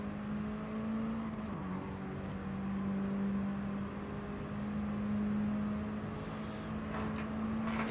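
Mini Cooper race cars at a Mini Cooper Cup round in Sardegna run on the track, a steady engine drone and whir holding a constant pitch, fairly distant and unbroken, with no talk.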